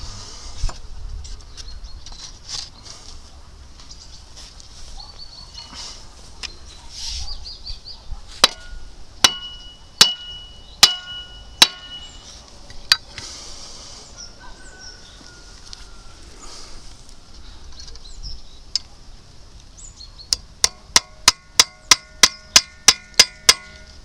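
Sharp hammer blows drive a nail fixing a hoe head onto its wooden handle, striking in spaced groups, then a quick run of evenly timed taps near the end, over a steady background hum.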